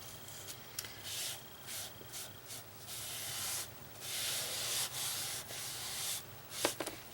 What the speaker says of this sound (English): And I'm just applying it with an artist sponge.